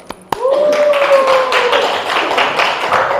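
Classroom applause during a teacher-training practice lesson: a sharp tap, then steady, fairly loud clapping from a group of students, with a high voice or whoop ringing over the first second.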